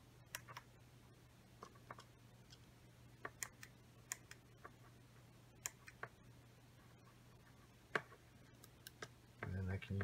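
A small pocket mouse gives off quiet, sparse button clicks at irregular intervals against a low hum, followed by a brief louder rustle at the end.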